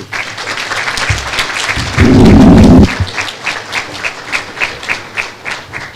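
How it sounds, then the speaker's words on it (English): A loud burst of applause at a commemorative ceremony, dense and close, with a deep thumping swell in the middle and rhythmic clapping continuing afterward. "Oui, on peut l'applaudir."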